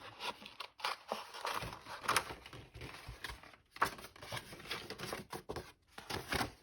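Scissors cutting out paper for a junk journal, a quick run of close, soft snipping and crinkling strokes repeating irregularly, faint and without talk.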